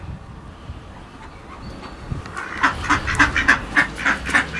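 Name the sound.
ducks quacking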